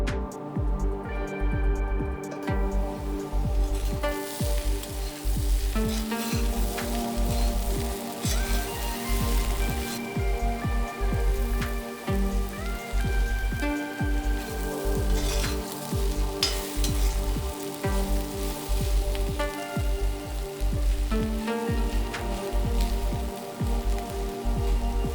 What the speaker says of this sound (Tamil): இதை கொஞ்ச நேரம் வதக்கிட்டு மூடி போட்டு வச்சுக்கலாம்